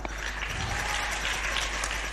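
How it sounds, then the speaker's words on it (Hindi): An audience in a hall at a Jain religious worship ceremony claps in steady, dense applause, a continuous wash of many hands throughout. "इनके सम्मान में पूरा सदन जोरदार तालियां"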